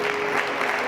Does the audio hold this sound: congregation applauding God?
yes